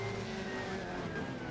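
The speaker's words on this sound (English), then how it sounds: "The engine note, it's got a very raw quality to it, and you do get a nice bit of transmission whine" A BMW 320 touring car in Assetto Corsa holds a raw, continuous engine drone with a thin, steady transmission whine riding above it.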